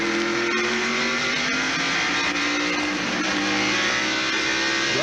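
A Pontiac stock car at the 1995 Hanes 500 roars down the straightaway, its engine a loud, sustained racing drone with rising pitch, other cars blending into the continuous roar.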